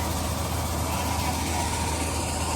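A tractor engine idles close by, a continuous low rumble that holds level throughout.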